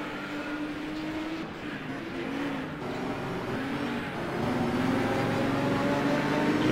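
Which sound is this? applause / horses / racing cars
racing cars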